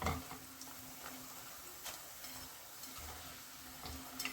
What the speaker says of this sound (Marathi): लगेचच यात आपल्याला आता मिरच्या तळून घ्यायच्या